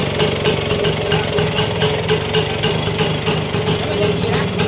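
A loud, steady Vespa scooter engine idling close by, with a regular pulsing putter and a rough mechanical rattle throughout.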